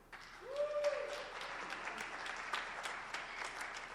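Applause from the audience at a school poetry recitation competition, a steady wash of many hands clapping that swells early and holds at a moderate level; a faint tonal whistle rises briefly near the start.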